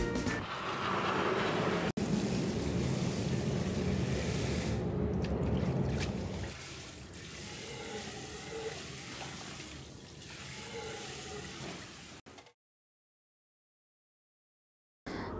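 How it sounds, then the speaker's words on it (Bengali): Stem amaranth greens are washed in water, with splashing, swishing and dripping near the microphone, growing quieter and more intermittent before stopping abruptly into silence. "শাকগুলো আমি ভালোভাবে ওয়াশ করে নিচ্ছি।"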